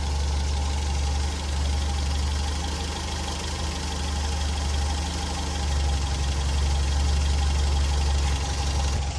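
A Ford Fiesta Mk3 engine idles quietly and evenly, a steady low hum with a faint rhythmic rumble heard up close, no voices over it.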